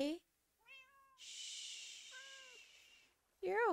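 A Siamese cat gives several meows, some short and rising, others long and wavering, with a breathy hiss in between, close and clear with pauses between calls.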